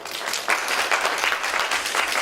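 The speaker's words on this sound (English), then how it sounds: "again, the final applause to Mr. Tanaka." An audience gives a final round of applause for Professor Hiroshi Tanaka at the close of a three-day course session, with steady, dense clapping throughout and no voices.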